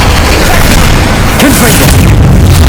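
Incendio fire spell cast in the video game Hogwarts Legacy, a loud booming burst of flame with a whooshing rush, heard amid battle noise and a brief voice.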